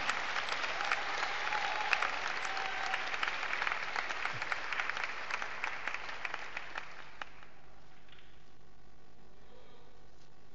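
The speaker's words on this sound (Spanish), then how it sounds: "¿Le puede rendir una ofrenda de aplauso grande a Dios Todopoderoso?" A church congregation applauds during a sermon, a loud, dense burst of many hands clapping that holds for about seven seconds and then stops abruptly, leaving a quiet room tone.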